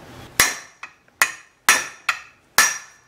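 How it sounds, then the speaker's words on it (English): A hammer strikes the machined hub surface of a Ford Festiva front brake rotor, five sharp ringing metallic blows with lighter taps between, spaced unevenly and close by with no talk. "this machine surface is the surface you're gonna be hitting with the hammer and whatever type of tool you're using, a drift or a socket"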